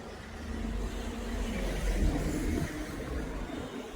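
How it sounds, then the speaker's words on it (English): On a roadside in Madeira, Portugal, a car rushes past, its engine and tyre roar swelling to a peak midway and then fading, heard alone over steady outdoor background noise. "Then you got the cars racing past any second now."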